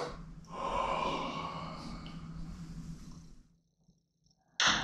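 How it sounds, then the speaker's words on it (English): A man adjusting during treatment of a high ankle sprain, breathing audibly and yawning: a long, airy breathy exhale that fades into near silence, followed by a sudden short sharp sound at the end. "You can hear him breathing and he's yawning."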